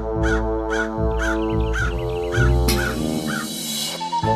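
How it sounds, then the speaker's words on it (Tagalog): A crow caws repeatedly in a steady series of harsh calls, fairly close and loud, with a brief scrape of other noise near the end. "Sa kalapit na puno ay may isang uwak."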